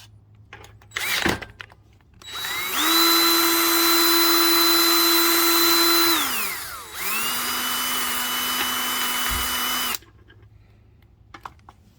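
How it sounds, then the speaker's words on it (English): A power drill, used to install a Can-Am X3 shock kit, whirs loudly at steady speed, winds down, then spins up again at a lower pitch before cutting off, with a few clicks around it. "So I did it with this drill."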